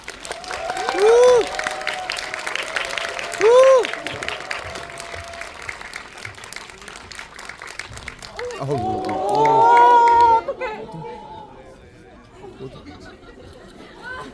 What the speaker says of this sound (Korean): 박수로 두 분 환영해주세요